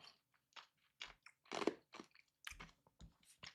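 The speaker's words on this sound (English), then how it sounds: "Sorry for the ice chewing." Ice cubes being bitten and chewed close to the mic, a run of sharp crunches in uneven bursts with short quiet gaps and no talking.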